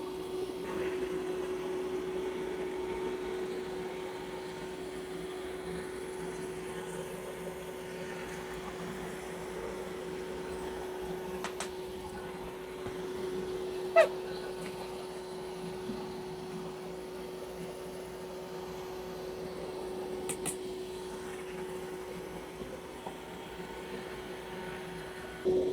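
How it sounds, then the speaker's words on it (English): A Mova P70 Ultra robot vacuum mopping muddy paw prints off a floor, a faint, steady motor hum with a constant tone and a couple of light clicks, heard alone without speech. "Now let's watch it mop up these muddy paw prints."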